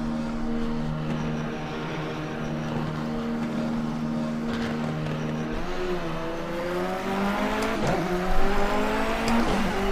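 Continental race car engine in the racing game Project Cars, a steady loud drone whose pitch climbs as it revs up through the gears, with a brief louder burst near the end.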